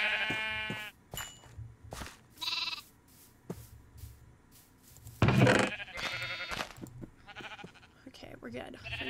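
Minecraft sheep, white and red, bleat in short, wavering bursts amid blocky game sounds, while a person talks over and between the calls.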